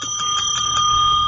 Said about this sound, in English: Inappropriate bell.